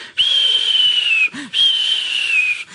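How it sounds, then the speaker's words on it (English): A steam engine whistle sounds twice, each a long steady high-pitched tone lasting about a second, separated by a short break, loud and close. "He whistled through Edward's station,"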